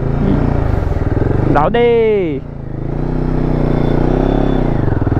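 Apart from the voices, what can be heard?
Royal Enfield Himalayan 450 motorcycle starting off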